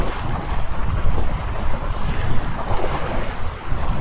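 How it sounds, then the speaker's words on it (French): Waves of a rising tide washing on a shore on the Côte-Nord, a continuous rumbling surf with gusty wind buffeting the microphone, loud and close, with no voices. "La marée monte."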